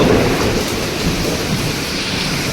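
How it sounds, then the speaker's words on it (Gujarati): Deep, continuous rumble of thunder rolling steadily with a rainy hiss over it, fairly loud and unbroken for the whole moment, during a lightning storm. "ક્યાંક વળી વીજળી પડી આ બાજુ"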